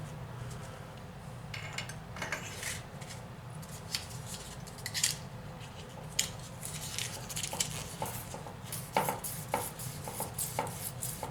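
Steady scratchy rubbing of 3000-grit paper cleaning the valve seats of a Tecumseh H60 engine head, worked back and forth in short quick strokes, close up with no talking.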